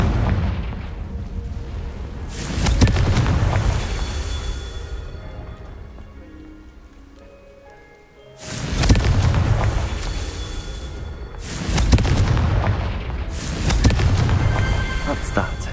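Three deep, booming fire-spell explosions from the Confringo curse in Hogwarts Legacy: one at about two seconds, then a loud pair later, each with a long rumbling tail and layered over game music.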